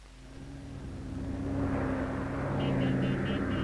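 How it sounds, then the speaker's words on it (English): Military planes fly low over street crowds in Da Nang during the Vietnam War, a droning engine roar that swells from distant to loud and near overhead, with crowd noise beneath. "Overhead, General Key's planes buzz the crowds."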